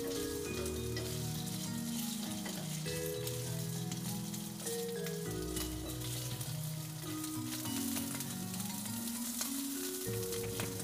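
Marinated pork stir-fries in hot oil with garlic, a dense, continuous sizzle and crackle close by, with repeated scrapes and clanks of a spatula tossing the meat in the pan.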